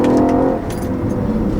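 The dual overhead cam V8 of a 2013 Audi RS5 revs briefly, a loud close engine note that swells at the start and then settles into a steady hum.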